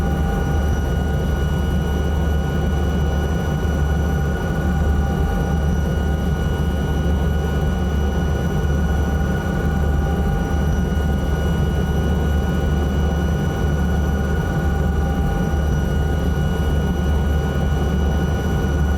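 Simulated Alouette 3 helicopter flying in Microsoft Flight Simulator 2024, a steady, loud turbine whine and rotor drone holding constant throughout with no change in pace, heard alone without talk.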